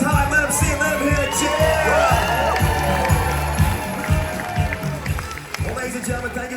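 A cruise ship audience aboard Harmony of the Seas cheers, whoops and claps loudly over a thumping beat while an announcer's voice carries through the din.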